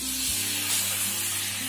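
Chicken sizzles loudly in a hot pan after a little water is added, a dense hissing crackle filling the whole moment, close up, with a low steady hum underneath.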